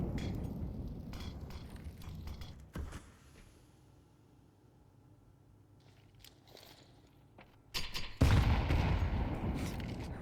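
Bursts of gunfire in a Counter-Strike esports match: a loud volley at the start, a quieter stretch with scattered shots and footsteps, then a dense, heavy exchange of fire near the end.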